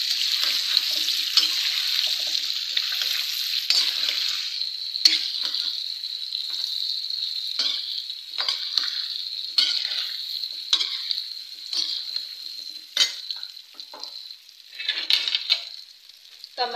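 Amla, Indian gooseberries, fry in a pan for pickle with a steady bright sizzle, broken by repeated stirring scrapes and clinks throughout, close and fairly loud.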